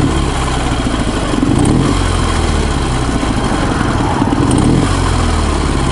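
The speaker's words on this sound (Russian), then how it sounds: "Постукивает мотор." A hot Ural motorcycle engine idles loud and close, a steady rough chugging with a faint, regular knock running through it and no voices.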